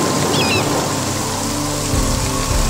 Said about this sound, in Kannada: ಆಕಾಶದಿ ಜೋರು ಮಳೆ ಬಂತು.